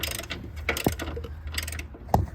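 A ratchet wrench loosens the nut and bolt on a BMW E90 control arm, giving close metallic clicking and a few sharp clanks of the tool against the suspension parts in short, uneven bursts.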